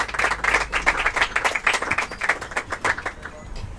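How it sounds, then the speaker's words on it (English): A small audience claps at a restaurant event with two boys' soccer players, a steady patter of individual claps with people talking over it. "let's give them a round of applause and a little shout out here."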